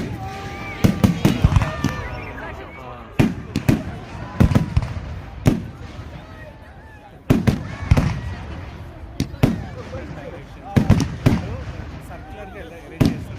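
Bonfire Night fireworks display in Cambridge, UK, with loud sharp bangs and crackling bursts, some in quick clusters and others spaced a few seconds apart, echoing in the open air while people talk quietly nearby.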